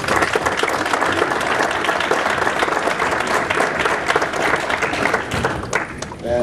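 An audience at a church-related gathering breaks into sustained applause, loud, dense clapping that carries on steadily for several seconds before easing slightly near the end.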